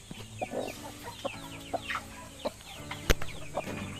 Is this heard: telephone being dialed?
no